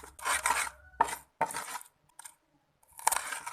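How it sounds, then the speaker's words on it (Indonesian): Garlic, ginger, candlenut, shallots and chili are ground together by hand in a home kitchen, with bursts of scraping, grinding and knocking strokes, close and moderately loud, separated by short pauses. "Kita haluskan semua bumbu-bumbunya ya guys."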